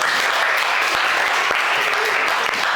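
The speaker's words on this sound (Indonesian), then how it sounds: "Tepuk tangan untuk mereka" Steady, dense clapping from a class of eighth-grade students, even and sustained for the whole short stretch with no voices standing out.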